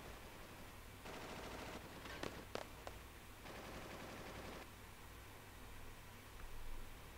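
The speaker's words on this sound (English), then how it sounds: "What was that? Gunfire." Bursts of gunfire in Final Fantasy VIII crackle through a steady noisy background, with a few sharper individual shots standing out between two sustained volleys.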